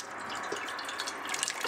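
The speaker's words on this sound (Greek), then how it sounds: "Τα ξεπλένω πάλι με κρύο νερό." Cold running water rinsing food under a tap, a steady close splashing stream with light drips, faint and continuous for the whole moment.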